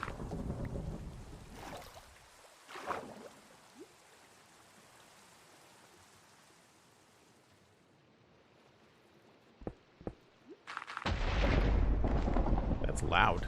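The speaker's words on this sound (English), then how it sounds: "Oh, there's some thunder." Thunder rolls as a low, distant rumble that fades to a quiet lull, with a few sharp cracks. It then swells into a louder, closer roar at the end.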